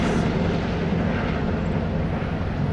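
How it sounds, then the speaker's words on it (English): Freight train pulling a long string of empty flatbed cars, a constant heavy low rumble rolling past at steady loudness without any voices. "Pulling a lot of empty flatbed cars."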